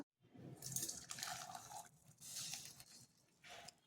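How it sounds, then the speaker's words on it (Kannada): Water from boiled vermicelli is poured off, a soft splashing trickle in short bursts, quiet and close with no voices. "ಈ ಥರ ಎಲ್ಲ ನೀರನ್ನು ಬಗ್ಗಿಸ್ಕೊಂಡ್ಬಿಡೋಣ"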